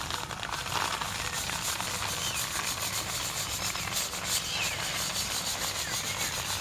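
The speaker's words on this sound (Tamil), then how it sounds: "எல்லா உளுந்தையும் முதல்ல ஜலிச்சு எடுத்துக்கலாம்." Black gram (urad dal) being sieved for idli batter, giving a steady, close, dry rustling and scraping that runs unbroken throughout with no talk.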